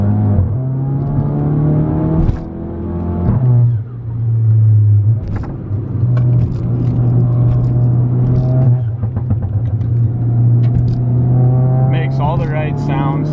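VW Golf GTI Mk7 with a dual-clutch transmission in sport mode, its engine droning steadily and rising in pitch through revs, with brief dips between pulls, loud and close with someone talking over it.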